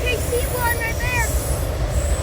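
Freight train rolling past close by during an outdoor car show, a steady loud rumble with squealing wheel tones over the rails, people talking and cheering over it.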